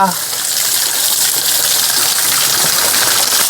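Water gushing loudly and continuously as it is poured over a calf during a bath, close and steady for the whole short stretch.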